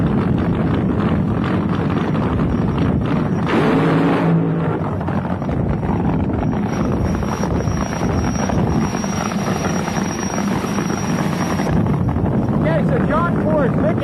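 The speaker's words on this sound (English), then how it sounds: "Fired and running is the Jet car." Jet dragster car fired up and running at a drag strip for a dry burnout, a loud continuous roaring rush of turbine exhaust with shifting whine, dense and unbroken for the whole stretch.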